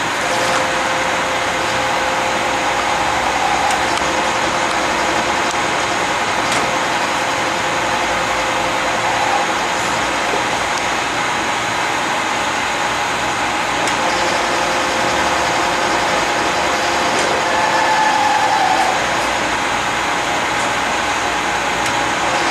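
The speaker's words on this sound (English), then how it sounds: "turn the commutator in the lathe, which will return the armature back to its original new condition" A lathe turns a wheelchair motor's armature commutator, giving a steady, dense mechanical whir with faint ticks, continuous and fairly loud throughout.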